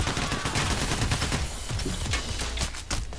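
Police open fire in the video game PAYDAY The Heist: dense, continuous automatic gunfire from several guns, loud and close, with rapid overlapping shots.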